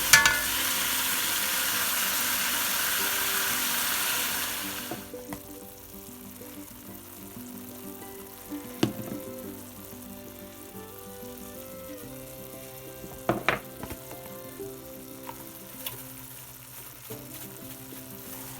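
Loud, steady sizzling from meat frying in a pan for several seconds, then a quieter simmering crackle with a few scattered clinks.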